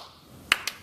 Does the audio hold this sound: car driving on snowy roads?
no